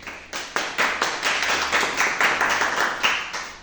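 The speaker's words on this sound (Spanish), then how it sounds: "un aplauso por favor" An audience at a book talk in Spanish bursts into brief, steady applause, a dense close patter of hand claps lasting a few seconds with no voices over it.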